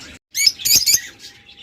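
A pair of pet lovebirds, one male outside and one female inside a nest box, chirp in quick bright bursts, several short calls close together after a brief pause.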